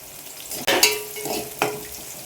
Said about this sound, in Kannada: ಈರುಳ್ಳಿ ಸ್ವಲ್ಪ ಫ್ರೈ ಆಗಲಿ ಚೆನ್ನಾಗಿ.